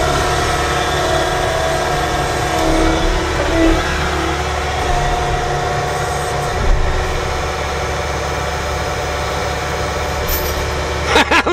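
Chainsaw running steadily during a red oak firewood cut, a loud continuous engine drone with slight surges that rises sharply at the very end.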